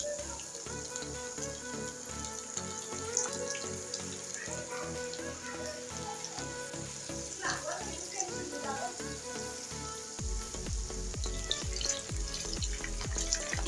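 Chicken pieces frying in a pan over high heat for a Chinese restaurant-style cashew nut dish, with a steady sizzle throughout and louder, denser bursts toward the end.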